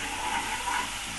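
Vegetables sauté in a pan with soy sauce for a Singaporean rice dish, a continuous, fairly loud sizzle and hiss with no voices.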